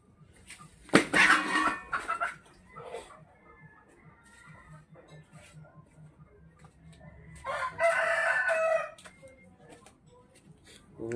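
A rooster crows loudly nearby around a house, one full cock-a-doodle-doo near the start and a second crow later, with softer clucks and a person talking in between.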